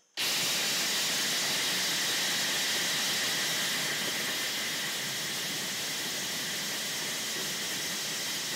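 A loud, steady roaring whir of a cheap blender motor running nonstop at full power on the chop setting, close and harsh, with no voices over it.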